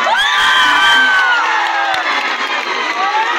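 A large crowd at a Bihu stage show claps, cheers and shrieks loudly for Bailung. High whoops and screams ring out over a continuous roar, louder at first and easing slightly toward the end.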